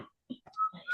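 A girl whistles in a classroom, a short faint run of thin, wavering whistled notes broken by small gaps, heard alone and quiet.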